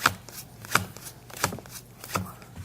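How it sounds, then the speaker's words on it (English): Playing cards are handled at a home poker game, with four evenly spaced sharp riffling snaps close up and no talking. "Shuffle those cards up. Mix them up if you would."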